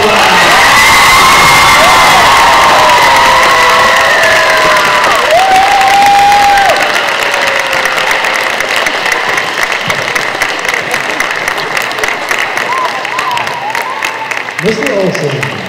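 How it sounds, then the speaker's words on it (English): Loud applause and cheering from a crowd, with whoops and children's shouts, honoring a school nurse receiving an award at a pep rally before sectionals; dense and sustained throughout, with a brief tonal whistle-like sound early on. "Let's give her a huge round of applause."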